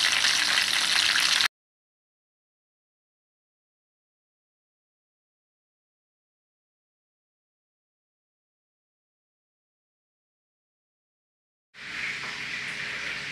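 Pieces of boiled-first fried chicken sizzling in hot cooking oil, about half submerged, with a loud, steady frying hiss in two short bursts separated by a long stretch of silence.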